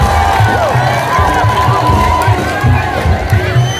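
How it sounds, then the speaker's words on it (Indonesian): Crowd applause and cheering at a village tongtek percussion contest in Jepara, Indonesia, a steady dense roar of clapping and shouts filling the whole stretch at loud, close level. "berikan tepuk tangan untuk Laskar Senopati Mayang Kidul"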